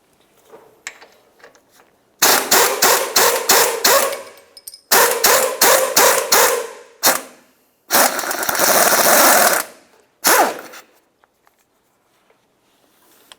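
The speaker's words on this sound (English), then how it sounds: "Use an 18mm to loosen this bolt and remove it" An 18mm wrench loosens the track bar bolt at the front differential of a 1994-2002 Dodge Ram 2500, producing loud, close bursts of rapid ratcheting and grinding in several separate runs broken by short silences.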